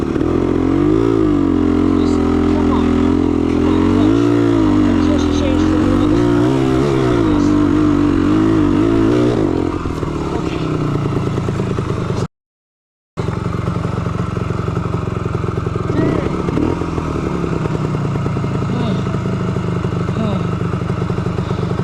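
A 1975 Yamaha DT250 dual sport motorcycle climbs a steep mountain trail, its engine loud and close throughout with rising and falling revs and one brief dropout.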